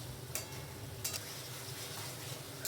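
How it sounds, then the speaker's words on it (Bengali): Pre-fried potatoes being stir-fried with spices for muri ghanto, a quiet continuous sizzle with two or three brief scraping stir strokes, close by and without voices. "আলুগুলো দিয়েও একটু কষিয়ে নেব"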